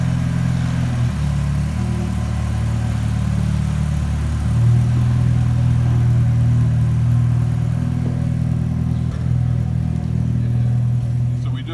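A 1956 Austin Healey BN2 engine idles smoothly below 1,000 RPM as it warms up with the choke in, a steady low rumble close by with a brief swell in the middle.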